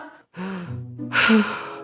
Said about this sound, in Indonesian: Tarik napas dulu bang.